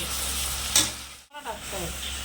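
Spice paste frying in a pan with a splash of water, giving a steady sizzle and hiss that briefly cuts out, with a voice talking faintly over it.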